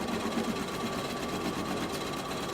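An embroidery machine stitches an appliqué design onto a T-shirt with a steady, fast, mechanical whirring and rattling hum, close and continuous throughout, with no talking.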